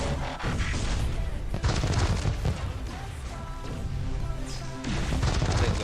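Mortar barrage in the mobile strategy game Transformers Earth Wars, a dense, continuous wash of booming impacts and crashing explosions with overlapping musical game sound, loud and steady throughout with brief dips.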